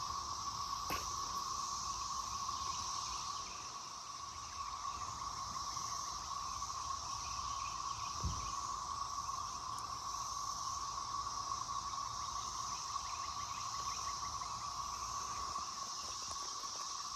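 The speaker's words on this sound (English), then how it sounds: "Can you hear those cicadas?" Steady, loud cicada buzzing fills the air continuously, with a high sustained drone and a second band below it, unbroken throughout.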